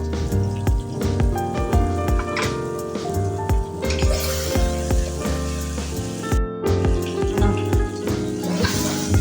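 Ingredients frying in a pot for kushka rice, with a busy, loud crackling sizzle and repeated clinks and scrapes of a spoon against the vessel, close and continuous, with no talking.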